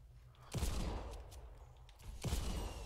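A rocket launcher and gunfire in the video game Fortnite: two sharp, heavy blasts about two seconds apart, each followed by a rumbling, crackling tail of rapid shots.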